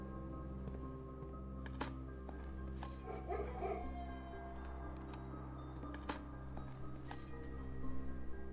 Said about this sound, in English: Barking dogs you can hear there are being triggered by the kennel.